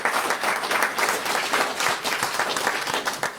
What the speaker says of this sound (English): So a round of applause for our board of directors.